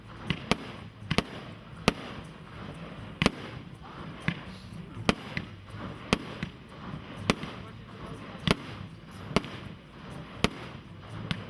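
Firecrackers go off in a string of sharp, irregular bangs, some single and some in quick pairs, popping over a noisy outdoor background.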